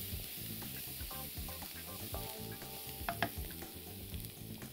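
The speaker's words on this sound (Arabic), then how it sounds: "كل الكلام ده هاخده كده سوتيه مع بعضه شويه من الفلفل الابيض" Meat being sautéed with white pepper in a pan, a steady close sizzle and frying hiss with repeated stirring scrapes and utensil clinks throughout, no voices.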